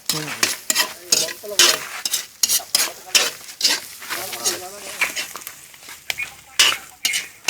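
Ingredients sauté in a hot pan for an eel rice porridge, with rapid repeated scraping and sizzling strokes close by, loud and busy throughout.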